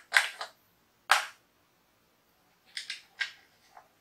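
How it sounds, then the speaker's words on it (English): A cap screwed onto the battery compartment of a small radio holding an 18650 battery gives a few sharp, close clicks and scrapes in short bursts, separated by silence. "Screw the cap on."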